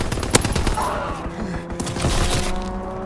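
Aircraft strafing gunfire in Call of Duty WWII hammers out in a loud, rapid burst with sharp cracks and impacts, followed by a droning engine and continued battle noise.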